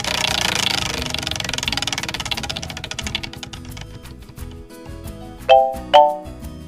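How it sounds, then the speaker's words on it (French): A game show prize wheel ticks rapidly as it is spun, and the clicks gradually slow and spread out as it coasts to a stop. Two bright chime dings ring out near the end. "On relance la roue."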